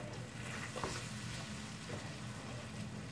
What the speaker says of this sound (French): Et là, vous remuez toujours à feu doux, bien évidemment.